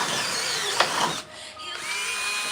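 A power drill drives a screw into a shop-built gate, giving a steady high whine that dips briefly mid-run and then resumes at an even pitch, close and loud with no voices.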